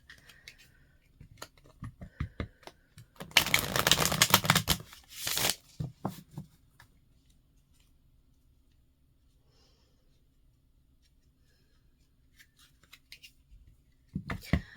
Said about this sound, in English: I'm going to take a moment while I shuffle the cards